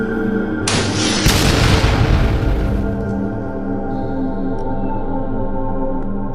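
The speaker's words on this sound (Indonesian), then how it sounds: "Seiring suara tembakan senapan saya" A rifle shot cracks out in a burst during an armed raid on a camp, sharp and loud, with the boom trailing off into a lingering rumble and background noise.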